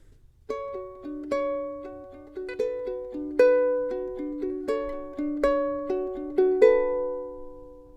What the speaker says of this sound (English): So the intro thing sounds like this.